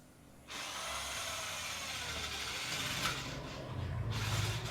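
A Huber HID1355 corded impact drill drives screws, its motor whirring up sharply after a short pause and running steadily with a grinding, ratcheting buzz that rises in pitch toward the end.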